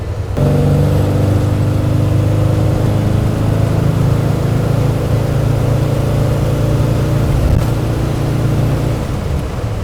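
A 1955 Chevrolet Bel Air drives along on a test drive, its engine giving a loud, steady, close-up drone with no speech over it.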